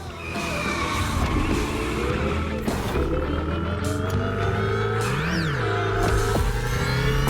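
A car's engine roars steadily during a wall ride in The Crew Motorfest, part of the Hoonigan update. Loud, continuous, close game audio, with the engine pitch sweeping up and down over tyre and road noise.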